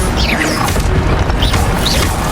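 Incendio fire spells are cast repeatedly in the Hogwarts Legacy video game, loud whooshing bursts and crackling impacts layered over busy combat sound effects.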